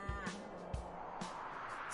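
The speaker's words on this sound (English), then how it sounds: "C is for cow." A cow moos in a short low call near the start, with a few fainter lowing sounds and knocks following across the brief span.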